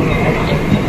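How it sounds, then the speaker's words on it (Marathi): A Mumbai suburban slow train bound for Churchgate moves with a loud, close, continuous rumble of wheels and carriages. "फायनली आता 11:40ला ट्रेन आली आहे आणि ही ट्रेन स्लो आहे चर्चगेटला जाणारी"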